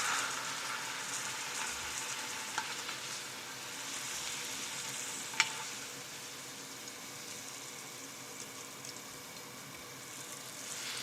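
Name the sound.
teriyaki sauce sizzling as it reduces in a pan over heat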